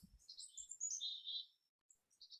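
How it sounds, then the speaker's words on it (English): Faint bird chirps outdoors in the background, a series of thin high twittering notes with short gaps, distant and quiet. "I like the bird sound in the background."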